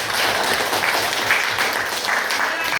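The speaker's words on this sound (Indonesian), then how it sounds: "Oke, tepuk tangannya dulu." Students in a classroom give a classmate a round of applause, a steady burst of many hands clapping together that fills the room briefly before cutting off.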